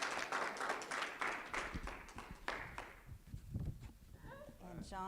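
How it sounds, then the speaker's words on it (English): Scattered applause at a school board meeting honoring John, fairly faint and distant, tapering off after a few seconds as shuffling and a voice begin. "let's give John another round of applause for his great job."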